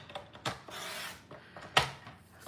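Cardstock is trimmed on a paper trimmer: a few short scraping slides and rasping swipes, close and fairly quiet, with small clicks and knocks in between and no talk.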